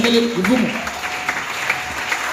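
A church congregation applauds and cheers to acclaim the Lord. A voice briefly rises over the start, then a short burst of mixed clapping and crowd noise fills the room at moderate distance.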